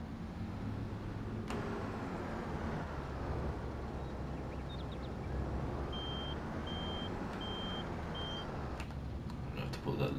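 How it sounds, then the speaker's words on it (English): A harvester's reversing beeper in Farming Simulator 22 gives four short, evenly spaced beeps over a low, steady engine rumble. "I forgot he has a beeper in this one"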